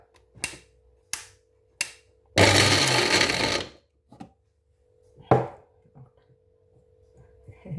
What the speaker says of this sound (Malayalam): നമുക്ക് ഈ വെളുത്തുള്ളി ഇഞ്ചിയൊക്കെ ഒന്ന് ചതച്ചെടുക്കണം. അത് മിക്സിയിലോട്ട് പെട്ടെന്നിട്ട് ചതച്ചെടുക്കുക അല്ലേ